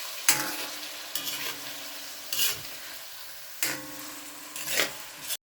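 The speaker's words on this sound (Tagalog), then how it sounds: "At binuhos ko na ang pre-cook na laman ng baka." Pre-cooked beef sizzling in a pan while being stirred for beef mechado, with a steady frying hiss broken by several scraping stirring strokes of a utensil at irregular intervals, close and moderately loud.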